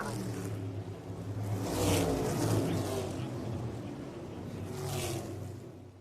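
NASCAR race cars roll around the track under caution, a broad engine roar swelling as cars pass near, easing, then surging again with another wave.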